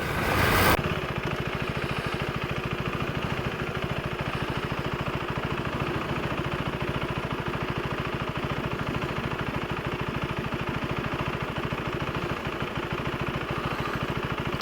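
A KTM 390 Enduro R motorcycle rides over a bumpy gravel track, its single-cylinder engine giving a steady, loud, unbroken drone close to the listener after a brief burst at the start.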